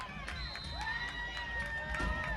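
A football crowd at a Saddleback at Ventura college game makes a steady, sustained roar of cheering and noise across the whole stretch, with whistle-like tones and voices rising above the din.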